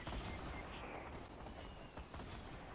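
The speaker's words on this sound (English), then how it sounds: "I'm just throwing grenades everywhere." Repeated grenade explosions in Fortnite's high-explosives mode, a dense, continuous barrage of booms and blasts rolling without pause, loud and close throughout.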